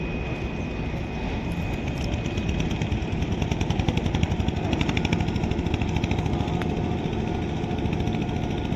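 A motor boat engine on water: a steady, droning outboard hum with a rapid low throb that grows slightly stronger through the middle, continuous and unbroken by talk.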